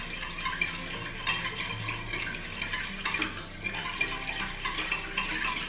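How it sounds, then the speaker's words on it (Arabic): Oil, water and other dough ingredients stirred together in a bowl while preparing Turkish borek, a continuous wet scraping and sloshing in irregular strokes, close and moderately quiet with no speech. "نخلطو كل شيء."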